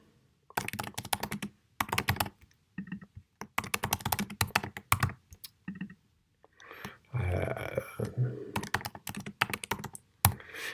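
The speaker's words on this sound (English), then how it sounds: "I'm just going to type in a few random" Bursts of typing on a computer keyboard entering made-up values into a search field prototype: quick clusters of close, crisp key clicks separated by short pauses, with no voices.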